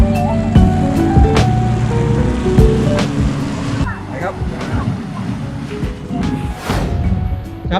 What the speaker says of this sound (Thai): คลื่นปกติ มันจะซัดเข้าฝั่งแต่นี่มันซัดออกด้านข้างด้วยคลื่นที่ซัดเข้ามา